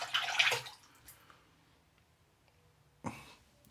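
A safety razor, a Rockwell 6S or Rex Envoy, rinsed under running tap water, with a loud splashing burst at the start, a quiet stretch, then a second short gush near the end.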